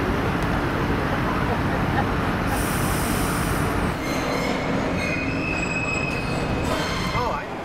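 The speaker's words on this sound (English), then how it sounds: "Train going on under the lower deck." A train rumbles along beneath a ferry's lower deck near New Zealand's capital, a steady loud mechanical roar with metallic wheel squeals and a faint high whine, continuous throughout.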